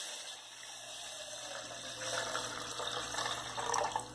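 Water pours steadily into a small pot or milk pan, about 500 ml, with a continuous splashing fill that grows a little louder toward the end, close by and with no talk over it.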